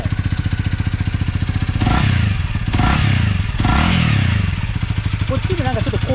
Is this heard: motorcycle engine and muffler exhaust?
yes